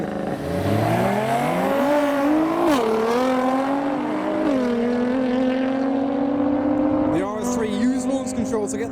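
Sports cars roar through a drag race, engines revving in a loud climbing whine with several gear-change dips, then a sharp pop and crackle near the end; a voice talks over the noise.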